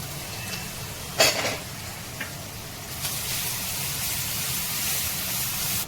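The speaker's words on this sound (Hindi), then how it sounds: "तेल गरम हो गया है। हम इसमें 3 टेबलस्पून कटा हुआ चॉप किया हुआ लहसुन डालेंगे।" Chopped garlic dropped into hot oil for momo chutney: a sharp clatter as it goes in, then a steady sizzling hiss that grows slightly louder, no talking.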